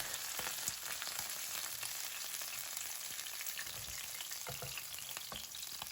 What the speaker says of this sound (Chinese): 把五花肉全部给它煎至两面金黄酥香